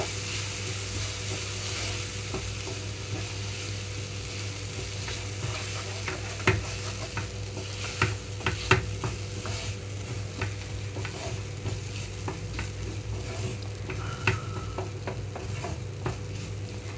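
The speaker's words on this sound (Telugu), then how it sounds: "ఇప్పుడు ఇందులోనే పచ్చి కొబ్బరి కూడా వేసేస్తున్నాను. లో ఫ్లేమ్లోకి టర్న్ చేస్తున్నాను." Fresh coconut is stirred into a chana dal curry over a low flame, giving a soft, steady sizzle broken by intermittent scraping stirs of a spoon in the pan, with no talking.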